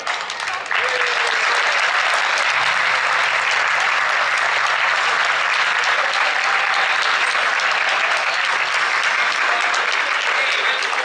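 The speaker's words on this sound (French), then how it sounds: "on les applaudit encore bien fort" Sustained applause from an audience at a French local sports awards ceremony, a dense, steady wash of clapping that swells in after a moment and holds loud and even throughout, with no voices standing out.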